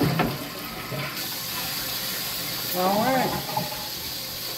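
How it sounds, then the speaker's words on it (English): A toilet flushes after a new fill valve is fitted, sending a close rush of draining and refilling water with a hiss beneath it, and a voice speaks briefly over the flow. "we're going to flush it to make sure that it's correct"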